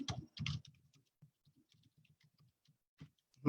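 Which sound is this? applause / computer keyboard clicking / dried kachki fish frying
computer keyboard clicking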